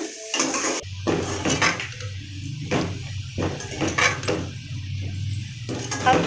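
A spoon stirs sliced onions frying in a pot toward golden brown, making repeated metal scrapes and clanks over a low bubbling sizzle, close and fairly loud.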